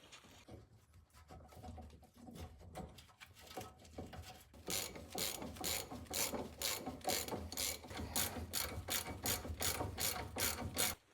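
Ratchet wrench tightening large brake caliper bolts on a rusty Toyota MR2, its pawl clicking in quick rapid strokes close up, sparse at first and then a steady loud run of clicks, with no talking.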